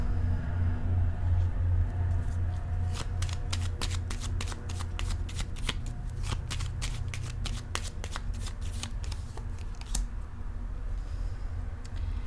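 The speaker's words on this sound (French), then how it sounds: "Je vais déposer une carte ici maintenant." Tarot cards being shuffled and laid down during a reading, a close run of rapid crisp card flicks and riffles over a low steady hum.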